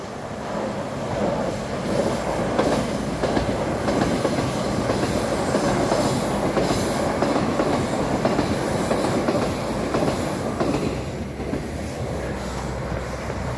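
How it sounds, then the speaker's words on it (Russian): A Siberian passenger train rolls past close by in North Ossetia, loud rumbling with rhythmic clickety-clack of wheels and occasional squeal, steady for the whole stretch. "Сибирский поезд в Северной Осетии."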